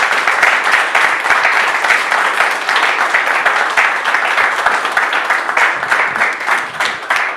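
A live audience at a podcast taping applauds the guests: dense, steady clapping that stays fairly loud and close for the whole stretch, with no voices on top.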